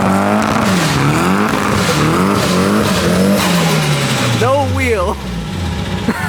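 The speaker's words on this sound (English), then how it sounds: "spun the wheels" A Nissan Silvia with a turbocharged SR20DE engine and an open differential spins its wheels on a dyno, a loud engine note rising and wavering, then dropping as the revs fall, with voices mixed in.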